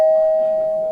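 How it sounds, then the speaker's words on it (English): A doorbell rings on a cold, windy winter night, one steady electronic tone held for the full second at close range and fading only slightly. "when I heard the doorbell ring."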